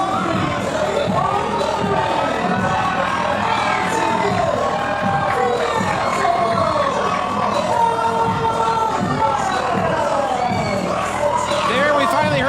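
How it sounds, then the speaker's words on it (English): A very loud crowd roars and cheers without letup at a live wrestling event in a packed venue in Greer, with whoops, shouts and children yelling layered into a dense, sustained wall of noise. "The crowd here in Greer at the Spinning Jetty so loud, Dave Foster could not get the ring introductions out"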